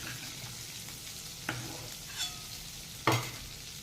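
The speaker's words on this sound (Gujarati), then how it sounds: "એને થોડાક ફ્રાય કરી લઈશું." Food fries in a pan while making a paneer corn sabji, a soft steady sizzle with a few sharp stirring clinks and scrapes, close and without talk.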